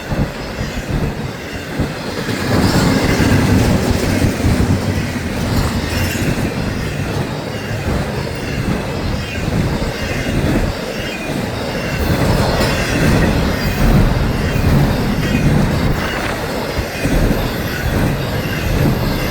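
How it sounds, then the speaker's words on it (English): A Florida East Coast freight train rolls past close by, loud and sustained, with rumbling cars, rhythmic clacking wheels and occasional metallic squeals. "so this train came out of Fort Lauderdale"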